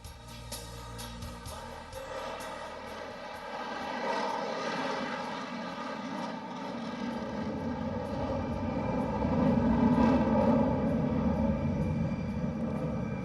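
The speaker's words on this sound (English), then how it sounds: "see as Tejas knocks off its speed and flies at a speed of 120 nautical miles per hour in front of us" A Tejas fighter jet with a G404 engine flies slowly past at low speed, a loud sustained engine drone that swells and holds steady over several seconds, heard alone without voices.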